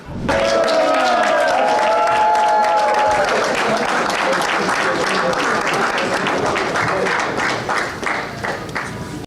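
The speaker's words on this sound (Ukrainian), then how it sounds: "Усик заходить в прес-рум під оплески закордонних журналістів." Foreign journalists applaud as boxer Oleksandr Usyk walks into the post-fight press room after beating Dubois, a dense, loud, steady clapping that runs throughout, with a few voices and a brief tonal sound near the start.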